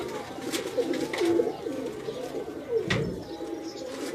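Pigeons perched on a rooftop coo in soft, repeated throaty phrases, fairly close, over a low outdoor background.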